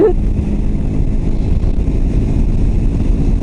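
Strong wind roars and buffets the microphone on a motorcycle ride on a cold day, a steady, loud low rumble that fills the whole stretch with no letup.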